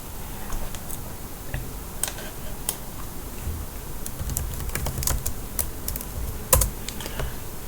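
Keys clatter on a computer keyboard as a command is typed, a quick irregular run of light clicks over a soft room hiss, close and steady without speech.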